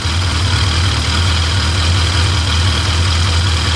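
A Yamaha Seca 650 motorcycle engine idles steadily during a carburetor sync, a loud, constant low rumble with a broad mechanical hiss above it and no talking.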